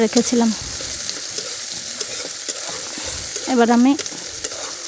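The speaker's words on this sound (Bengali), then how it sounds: "এবার আমি পেঁয়াজ, রসুন ও কাঁচা ঝাল একসঙ্গে দিয়ে দিলাম।" Onion, garlic and green chili sizzle and crackle in a pan as they fry for a potato and lentil dish, a steady hiss under brief speech at the start and near the end.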